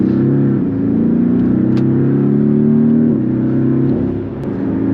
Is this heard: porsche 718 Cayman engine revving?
yes